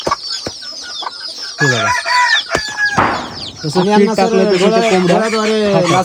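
Chickens on a poultry farm cluck in close, busy bursts, with a rooster's crow rising among the hens' chatter.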